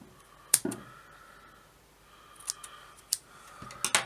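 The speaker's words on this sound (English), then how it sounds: "just snip them" Wire leads are snipped while building a vape coil, heard as a few sharp, close clicks of small cutters spaced across a quiet few seconds, with no talking.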